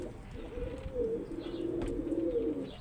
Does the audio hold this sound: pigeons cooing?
yes